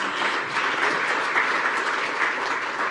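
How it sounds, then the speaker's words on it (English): A conference audience gives panelists a round of applause at a women-in-leadership event, a sustained, even roar of many hands clapping close and loud, with no talking over it. "a big round of applause, they have been amazing"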